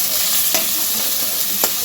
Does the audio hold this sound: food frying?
yes